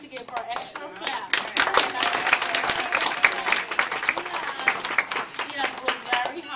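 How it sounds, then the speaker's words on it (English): Children and adults at a K-2 class book signing clap for a young reader, giving brisk, uneven, fairly close applause with distinct individual claps, and voices mixed in among the clapping. "So we need to give her an extra clap."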